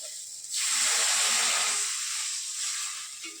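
A glass of water poured into hot frying masala for Kerala patri sets off a sudden loud steamy hiss that swells, holds for about a second, then slowly fades, close up with no talking.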